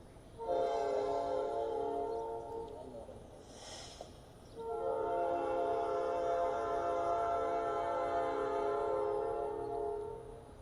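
A train horn blares in two long, loud tonal blasts separated by a short gap, with rumbling rail noise beneath.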